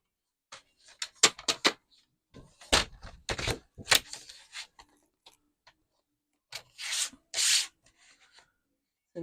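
Plum coloured card being cut to a 15 by 15 square on a paper trimmer, giving a series of short scraping, rubbing strokes in bursts with pauses between, fairly close and moderately loud, with no talking over it.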